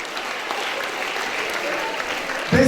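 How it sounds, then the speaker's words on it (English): An audience at a school National Librarian Day event applauds a speaker, a dense, even wash of many hands clapping at once, loud and sustained, ending with a brief knock. "Can we clap for her?"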